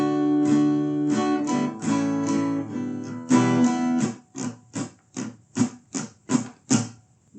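An acoustic guitar strums chords in a down-up rhythm, first as full ringing strokes, then as short muted, choppy strums with the strings lightly damped, close and clear with no talking.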